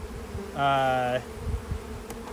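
A honey bee buzzes loudly and close by in a hive for about half a second, a steady droning hum over a low background rumble.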